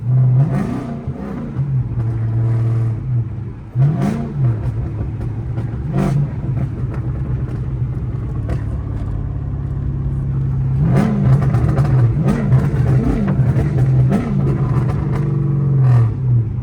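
Catless straight-pipe Chrysler 300C exhaust, heard from inside the car, revving in several loud, rising blips over a steady deep rumble, with bursts early on and a cluster of quick revs near the end.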